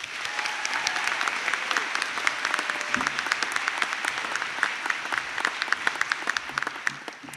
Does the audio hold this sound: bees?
no